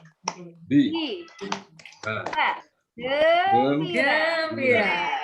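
A group in a teacher-training session does a rhythmic clap chant, with sharp claps mixed with voices at first, then a stretch of loud unison chanting.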